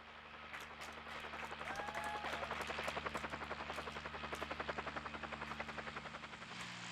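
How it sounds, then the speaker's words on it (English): A rescue helicopter in the 1996 Resident Evil game hovers for pickup, its rotor thumping in a steady rapid chop over a low droning hum, fairly loud and continuous throughout. "We're getting picked up by the chopper"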